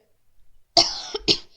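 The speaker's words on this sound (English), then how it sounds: "I know that was a cough." Two sharp, close coughs in quick succession after a moment of near silence, the second slightly shorter than the first.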